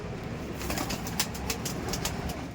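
Teddy pigeons are released, with a short burst of wing flaps and pigeon sounds over soft background noise lasting under three seconds.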